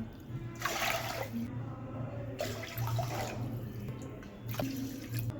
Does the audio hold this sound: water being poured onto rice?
yes